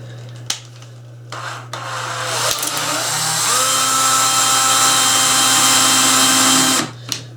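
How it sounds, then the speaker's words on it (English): A power drill whirs up and runs steadily at close range for several seconds, rising in pitch before stopping, with a few clicks around it, during assembly of a toy excavator. "Used a drill."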